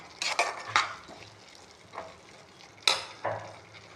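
Spices such as garam masala, cinnamon, cloves and leaves sautéing in a pan for paneer gravy, with a few sharp scraping stirs of a utensil against the pan over a soft sizzle.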